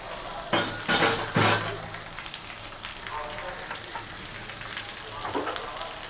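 Onions go into hot oil with whole cumin for prawn dopiaza and set off a loud sizzling burst, followed by softer steady frying crackle with a few clinks of a utensil.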